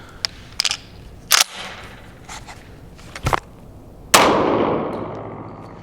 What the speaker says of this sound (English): This is our number 8 shot from the Remington 870.